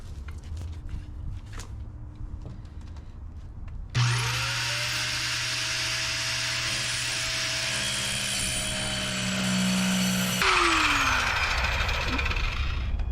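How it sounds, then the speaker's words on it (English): A power saw rips lengthwise through plywood for a cabin wall, starting abruptly with a loud sustained whine for several seconds, then spinning down with a falling pitch; quieter handling noises come before. "So I am using this saw to cut the long way"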